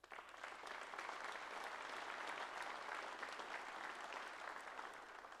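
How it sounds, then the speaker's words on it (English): An industry-day audience applauds in a continuous, even wash of many hands clapping, steady throughout and fairly distant. "So that deserves a round of applause"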